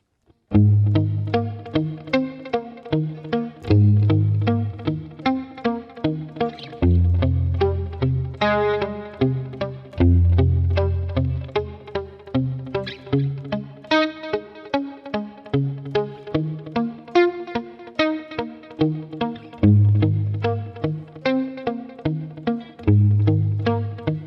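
An electric guitar intro and pre-chorus riff played through effects with distortion and chorus, strummed and picked in a steady rhythm with recurring low accented chords about every three seconds, loud and alone without talk.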